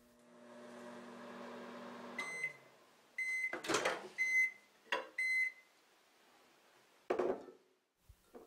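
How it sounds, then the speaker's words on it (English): A microwave oven hums steadily while melting chunks of white soap, then stops with beeps, followed by door and cupboard clunks and more short beeps close by. "I am now microwaving my white soap for 40 seconds."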